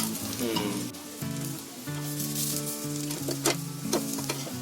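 Eggplant slices fry in a hot pan with a close, continuous crackling sizzle, punctuated by brief bursts of sputtering as the pieces are moved.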